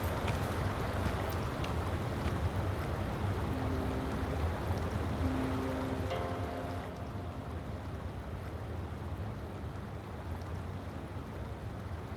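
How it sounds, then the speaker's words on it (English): Water level drops in the video game Wuthering Waves as a loud, continuous rushing and draining roar that holds for several seconds, then eases slightly. Faint tonal chimes float over the wash, and no one speaks. "The water level just dropped again."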